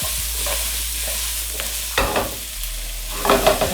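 Red onion hits a hot pan for chow mein, giving a steady frying hiss with a low hum beneath and a few scraping stirs and clacks, the last near the end louder.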